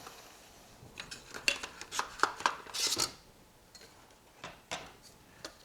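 Metal camping cook kit pot and lid clink and scrape as they are handled, with a cluster of close, sharp taps and rattles followed by a few scattered knocks.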